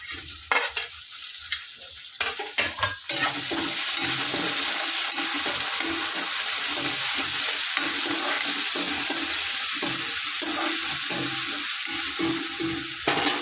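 Ridge gourd curry with tomato being stirred in a pan, a soft scraping and clinking at first, then a steady loud sizzle and stirring from about three seconds on, close up with no talking.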